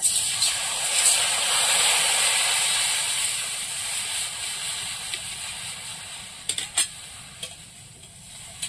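Water poured into a hot pan over lightly fried mung dal sets off a strong, steady steaming hiss that slowly eases, with a few light clinks near the end.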